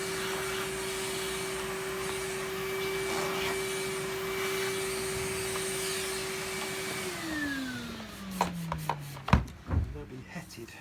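A Miele ART vacuum cleaner drones steadily with a constant motor whine, then winds down in pitch as it is switched off, followed by a few knocks and clatters.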